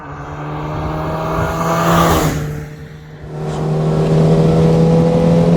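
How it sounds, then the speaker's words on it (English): A Peugeot 205 Rallye engine pulls uphill under acceleration, a steady close engine drone with rising harmonics that dips briefly around a gear change and then climbs again, loud and continuous with no talking. "So the acceleration isn't great pulling up the hill, but the pep, the response of that engine just puts a smile on your face"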